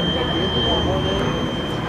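Pratt & Whitney R-2600-style radial piston engine of an F4U Corsair at full power during an airshow flyby, a steady, loud, continuous roar with a sustained tonal whine running through it.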